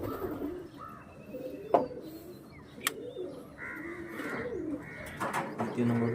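Pigeons coo softly during sealing for a pigeon race, with low repeated coos and a few sharp clicks and knocks, and brief faint talk in the background.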